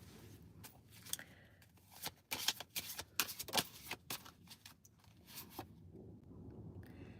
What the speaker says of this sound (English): Cards are dropping.